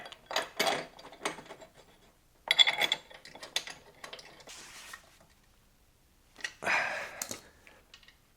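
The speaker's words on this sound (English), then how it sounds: "now we could bolt down the bracket onto the bumper" A light bar bracket is bolted onto the bumper of a 2025 Ram 1500 Rebel, with bursts of ratcheting and metallic rattling from a hand tool separated by short pauses, close and moderately loud.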